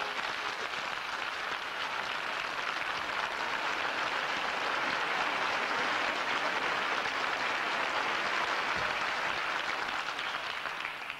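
Sustained audience applause fills a theatre during a Spanish stage revue, a dense, even wash of clapping from many hands that holds steady throughout with no break.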